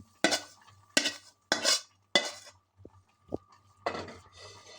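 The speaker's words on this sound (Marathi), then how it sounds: "हे आपण तूप लावलेलं ताटात ओतून घ्यायचं" Thick coconut burfi mixture is scraped and poured from a pan into a ghee-greased plate, making several sharp scraping strokes and soft clinks of a spoon on metal, close and fairly quiet.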